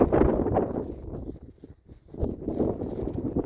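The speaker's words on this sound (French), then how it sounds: "Un vent du nord-ouest." A cold northwest wind blows at about minus 25 degrees after a storm, roaring and buffeting the microphone in loud gusts with a brief lull midway.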